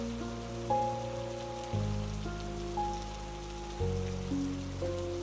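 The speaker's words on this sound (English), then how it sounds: "The rain continues." Steady rain falls throughout, a continuous soft patter heard at a moderate distance beneath sustained musical tones, with no voices.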